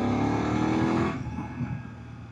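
A BMW F800 GS motorcycle engine pulls hard for about a second with a loud, rising rumble, then drops back to a lower, steadier drone as the throttle eases.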